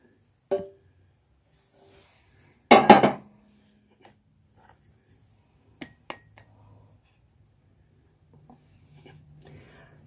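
Spiced milk with ginger, jaggery, cloves and black pepper is strained through a strainer into a glass, making a few sparse, sharp metallic clinks, one louder rattling clatter, and light scraping in a quiet room.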